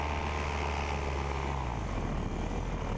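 A paramotor engine drones loudly and steadily in flight, its propeller roar dipping slightly in pitch partway through.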